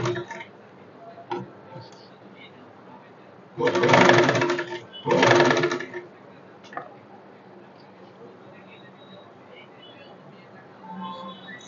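A sewing machine stitches a fall onto a saree in two loud, steady bursts of rapid whirring, each lasting about a second and a half, with quiet handling and ticking before and after while a person talks softly.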